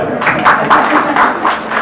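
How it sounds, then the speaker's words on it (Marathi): An audience at a Dhamma conference felicitation in Badlapur claims loudly in a brisk, rhythmic burst of applause lasting a couple of seconds, without anyone speaking. "थोराताईंसाठी जोरदार टाळ्या."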